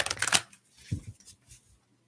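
A deck of playing cards is shuffled nearby in one short riffling burst, followed by a few faint soft taps in a quiet room.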